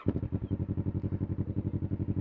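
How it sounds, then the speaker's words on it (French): A Kawasaki ER6 motorcycle engine idles nearby with a loud, rhythmic, chugging pulse, steady and throaty throughout. "C'est un truc de fou le bruit de cette moto."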